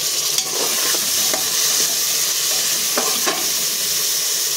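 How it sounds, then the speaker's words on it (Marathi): Field beans (vaal) and potatoes being stir-fried in a pan with goda masala, giving a steady close sizzle with a few light scraping strokes of the spoon, no talking. "इथे आपण वाळ आणि बटाटे टाकून आपण ते परतून घ्यायचे आहे।"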